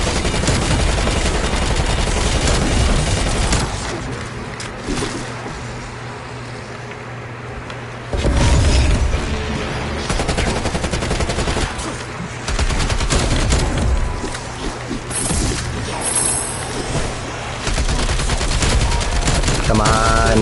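Sustained heavy gunfire in Call of Duty Black Ops, loud and continuous automatic bursts layered over engine rumble and game noise for the whole stretch, with a brief lull in the middle.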